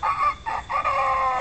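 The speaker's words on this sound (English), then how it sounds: "And on that farm he had a rooster" A rooster crows a loud, drawn-out cock-a-doodle-doo, close and clear with no talking.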